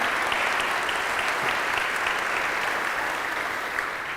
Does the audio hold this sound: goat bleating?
no